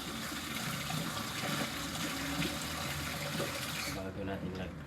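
Running water from a tap splashes steadily as chayote is washed in a kitchen sink, a continuous close hiss and patter that cuts off near the end, with voices talking over it.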